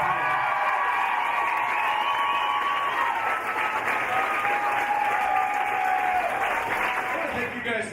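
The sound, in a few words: audience applause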